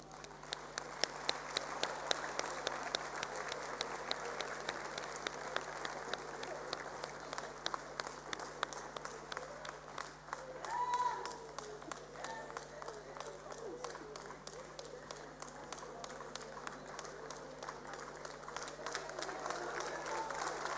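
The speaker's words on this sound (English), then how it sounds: "please give them a round of applause" A crowd at a matric results announcement claps for two top learners, the dense clapping sustained and fairly even with some faint background voices.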